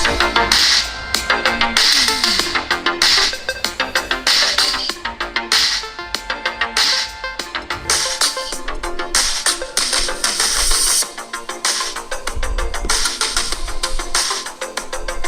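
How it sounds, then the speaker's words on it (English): Music plays loud and continuous from the speakers of an ROG Phone 2 and a OnePlus 7T smartphone, bright and dense with a pulsing beat and sustained tones, close up and free of talk. "let's take a quick listen to speakers from both devices"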